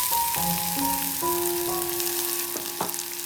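Shallots, garlic and ginger frying in hot oil with caramelized sugar, giving a steady close sizzle under soft tonal background sounds, with no talking.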